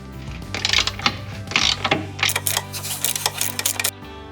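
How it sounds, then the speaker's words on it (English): Breaker bar fitted with an 18mm socket working a bolt loose, heard as a series of close mechanical clicks, ratcheting and metallic clanks in uneven bursts before the sound stops abruptly, with no talking. "Breaker bar with 18mm socket on the bottom."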